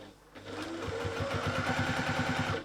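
A sewing machine runs a quarter-inch seam through thick layers of a woven cushion, its needle thumping in a fast, even rhythm close by after a brief start.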